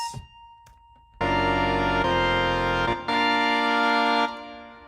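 Three full, sustained chords ring out one after another, loud and rich, after a brief quiet lead-in, the last fading away.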